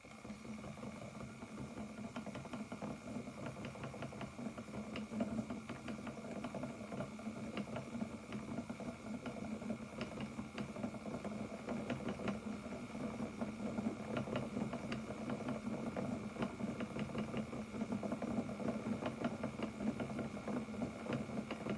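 An Electric Eel Wheel Nano spinning wheel runs continuously, its small motor giving a soft, steady hum with a fast, even rattling pulse throughout, fairly quiet and close.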